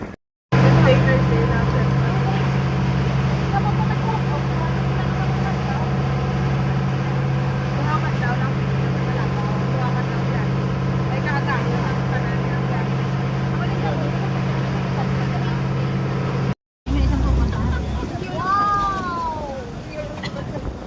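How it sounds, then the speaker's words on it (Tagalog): A motorboat at Gigantes Island runs with a steady, loud engine drone for most of the stretch, then cuts off; a voice briefly speaks at the end. "Ayun yung bangka namin sasakyan."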